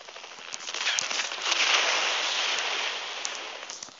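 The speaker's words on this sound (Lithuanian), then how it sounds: "Wow, kažkas mane šaudo." Rapid crackling bursts of video game gunfire swell and fade over a few seconds, dense and noisy, with no voices heard.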